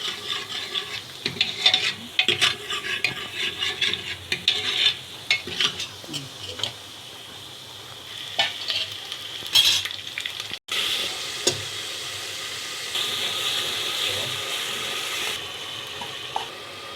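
Dal dhokli, Rajasthani style, is stirred and fried in a pot: a steady scraping, bubbling sizzle with irregular clinks and stirring strokes, close and moderately loud, running alone for the whole stretch.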